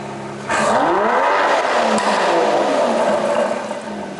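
A 2021 Aston Martin DBS Superleggera engine revs hard up and back down through its exhaust, a loud throaty roar rising and falling close by.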